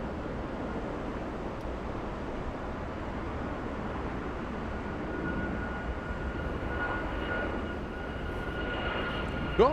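An airliner on a go-around at Atlanta's Hartsfield-Jackson airport makes a steady, distant roar of jet engines that builds slightly toward the end, a broad continuous rumble with no talk over it.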